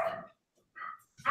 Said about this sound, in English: Control your dog, Alex.